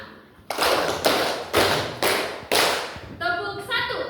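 Five sharp group handclaps from a school class, evenly spaced about half a second apart, loud and near, followed by a teacher's voice.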